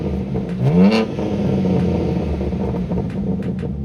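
A BMW M car's engine, fitted with a catless downpipe and set in Sport Plus, revs with a rising then settling snarl, staying loud and close with crackling pops as it holds.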